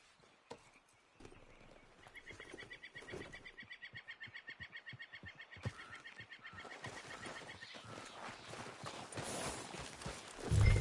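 Horse hooves clip-clopping steadily in the video game Red Dead Redemption 2, a regular walking rhythm over outdoor ambience with faint bird calls, building louder toward the end.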